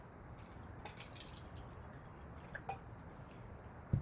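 Kangen water poured onto a test material gives a faint series of soft drips and wet squishes in quiet surroundings, with a small thump at the end.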